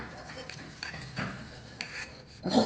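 Half a lemon rubbed over a blackened clay pot to clean it, giving soft, close scraping and rasping strokes in uneven bursts.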